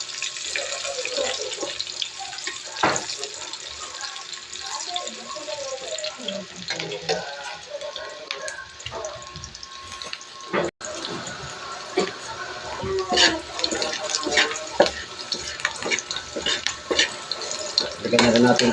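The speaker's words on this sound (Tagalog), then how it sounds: "Sunod natin dyan ang sibuyas para hindi masunog. Hintayin natin sa mag-golden brown." Chopped onions frying in a pan until golden brown, a steady sizzle with scraping and stirring clatter throughout, alongside running-water and sink sounds, close by.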